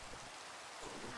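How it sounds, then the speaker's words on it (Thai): Rain falls in the video game Minecraft as a soft, faint, even hiss lasting just over a second, with no other sounds. "ฝนตกบ่อยเหลือเกิน"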